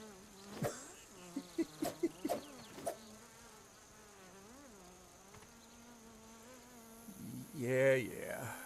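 Gnat from the video game Grounded 2 buzzing around, a steady droning insect hum throughout with a few sharp clicks early on and a louder rustle near the end; no speech.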